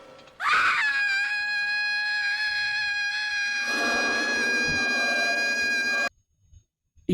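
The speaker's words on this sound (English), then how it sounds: "Buffy scream." A loud, sustained high-pitched female scream from an episode of Buffy the Vampire Slayer, rising sharply and holding steady for several seconds before cutting off abruptly into silence.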